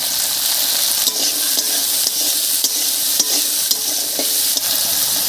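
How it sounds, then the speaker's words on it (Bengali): Green peas frying with a little salt in oil left over from frying fish, a close, steady sizzle broken by regular scraping strokes of a spatula stirring in the pan. "মটরশুঁটিটা ভাজা হয়ে গেছে, নামিয়ে নিচ্ছি।"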